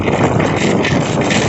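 Strong gusting wind buffets a helmet-mounted microphone on a motorcycle ride during wind and rain in Ambon. A dense, loud roar fills the whole moment, and no one speaks.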